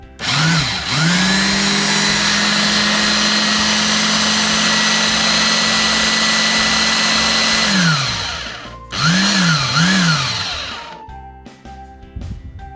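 An Einhell TC-BS 8038 belt sander used for rough sanding to remove stain roars up to a loud, steady whine and holds it for several seconds. It spins down, then revs in two short bursts before winding off.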